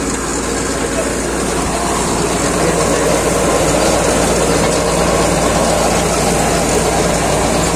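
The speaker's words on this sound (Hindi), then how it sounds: "ट्रैक्टर चले हुआ अभी तो" A Powertrac Euro 60 Next tractor's heavy engine idles steadily with a low, constant rumble, loud and close, with speech mixed in.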